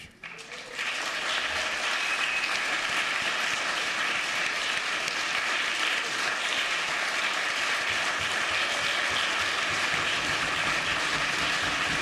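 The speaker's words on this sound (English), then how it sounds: "Thank you for that applause" A large crowd at a farewell for a long-serving House member breaks into sustained, dense applause that holds at an even roar for over ten seconds.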